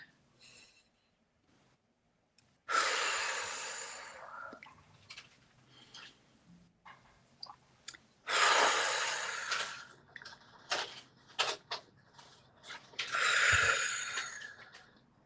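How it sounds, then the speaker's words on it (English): Three slow, deep breaths taken during a guided meditation, each a long, loud airy inhale-exhale swell close to the microphone, spaced a few seconds apart with quiet stretches and small movement sounds between them. "let's end as we began with 3 deep breaths."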